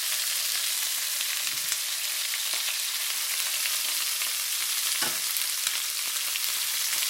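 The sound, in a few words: shrimp shells frying in oil in a pan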